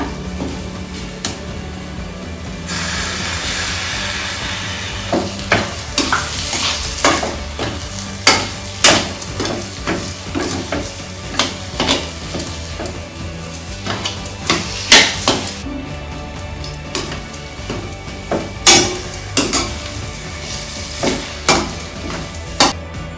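Semolina sheera cooking in a pan after saffron milk is poured in, a soft bubbling sizzle under repeated sharp clinks and scrapes of a spoon against the metal pan, with no talking.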